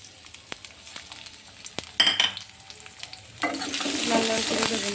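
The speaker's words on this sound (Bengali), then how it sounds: "এখানে আছে পেঁয়াজ রসুন কুচি, এটা ভালোভাবে ভেজে নেব" Chopped onion and garlic hit hot oil in a wok-style pan for a dal tempering, with scattered taps and stirring first, then a loud, steady sizzle of frying that swells and holds to the end.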